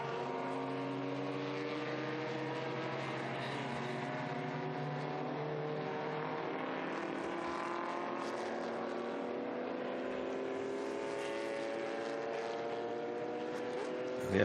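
Historic racing cars, Porsche 356s and Ford Escorts, race past at a circuit, with engines droning and shifting pitch through a long sustained pass, loud and continuous, with a faint commentary voice underneath.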